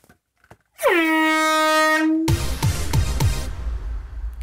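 A single long, loud air horn blast with a steady harmonic tone, cut off abruptly and followed by a burst of crowd noise and clatter, during a football club quiz.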